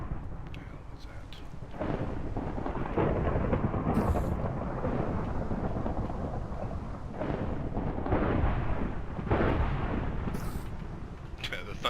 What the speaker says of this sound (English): The thunder does not help.